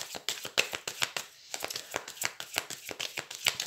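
Tarot cards being shuffled by hand in quick, rhythmic riffles, a steady run of crisp papery flicks and slaps, close and fairly quiet, with a brief pause partway through.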